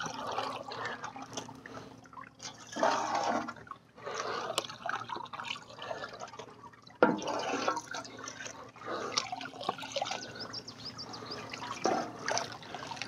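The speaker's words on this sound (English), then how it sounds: "Just take a little bit of water and we'll wash down our sluice here." Water rinses down a gold mining sluice box lined with miner's moss, paired with a gas-powered hammer mill, running in loud splashing surges that stop and restart several times.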